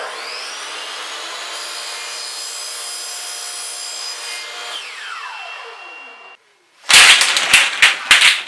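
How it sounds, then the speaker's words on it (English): A miter saw motor spins up and whines steadily at close range, winds down, and then a short loud cut through wood follows, with sharp, choppy bursts. "more miter saw time."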